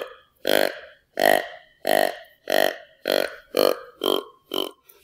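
A deer call imitates a buck's grunts: eight short, deep, guttural bursts in a steady rhythm about every half second, close and fairly loud, with nothing else around them.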